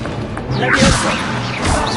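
Levioso spell in Hogwarts Legacy on PS4: a whooshing cast followed by a crashing impact and a rising swish, with game background noise throughout.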